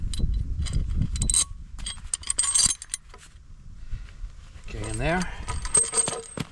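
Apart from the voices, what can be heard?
metal washer and bolt clinking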